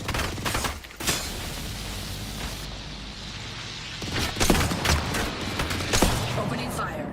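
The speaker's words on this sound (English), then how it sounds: "Opening fire." Gunfire in Apex Legends, with bursts of shots and booming impacts scattered across a busy firefight, loud and close, while a voice talks intermittently underneath.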